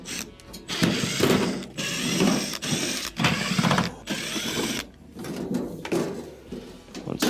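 Phillips screws being backed out around the edges of a refrigerator compressor cover, giving close, repeated mechanical ratcheting, scraping and clicking bursts with brief pauses, no talking.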